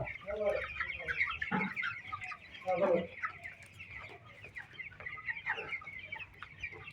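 Chickens cluck and chatter continuously inside a lit poultry farm shed, a steady close flock sound with occasional louder calls. Faint speech is heard under the birds.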